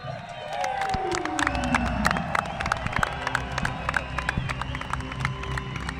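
A large crowd cheers and applauds at the Roubaix Velodrome for world champion Lotte Kopecky, winner of the 2024 Paris-Roubaix Femmes, a steady roar with a voice carrying over it.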